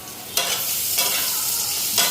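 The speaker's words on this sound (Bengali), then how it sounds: "পিঠা ভাজা হয়ে গেছে" Pitha cakes fry and sizzle steadily in a pan, with three sharper bursts of hissing as the batter is stirred or turned, close and fairly loud with no voices.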